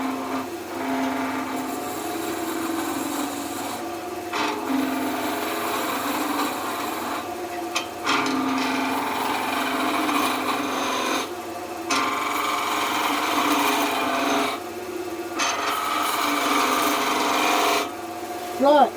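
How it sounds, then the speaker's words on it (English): A skew chisel takes a planing cut on spindle work spinning on a wood lathe, rolling a small bead: a steady close rasping, shaving hiss broken by brief pauses between passes, with no talk. "we're just going to pick up a planing cut and roll a slight bead into the bottom there"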